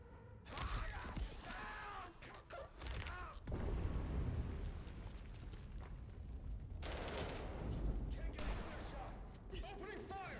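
Bursts of gunfire crackle in Vampire: The Masquerade – Bloodlines 2, sharp rapid shots mixed with a sustained loud volley through the middle, while voices talk around the shooting.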